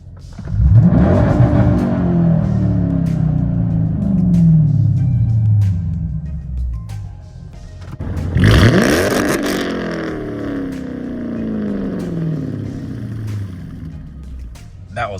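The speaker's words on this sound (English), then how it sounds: "keep your foot on the brake, keep the car steady, and I'm gonna give it gas." A Dodge Charger SRT engine revs hard and holds high, bouncing against the rev limiter, then drops and surges again to a second sustained rev.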